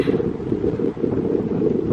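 Strong wind blows across a hilltop hiking trail in Hong Kong, roaring and buffeting close against the microphone in a continuous low rumble with brief dips.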